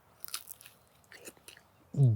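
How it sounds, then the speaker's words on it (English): A bite into crunchy pizza crust made with beef tallow, giving a few short crisp crunching and chewing sounds up close, followed by a loud low burst near the end. "Let me taste this crust. A really nice crunch to it."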